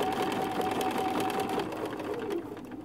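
A sewing machine stitches steadily with a quarter inch foot, a continuous close whirring hum that eases slightly toward the end, with no voices over it.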